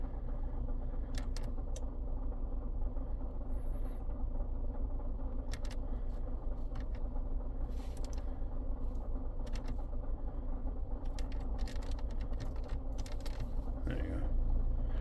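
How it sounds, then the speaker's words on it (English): A 2007 Scion tC idling with a growling, grinding noise from an engine accessory, a steady low rumble with intermittent creaks and clicks, heard close up, with people talking briefly. "we got an accessory that's making some noise"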